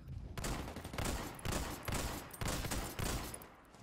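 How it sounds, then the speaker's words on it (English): Rapid bursts of sniper gunfire in a shooter video game, loud and close, coming in several repeated volleys with short gaps between them and no voices over the shots. "Keep moving, the sniper's still shooting at you."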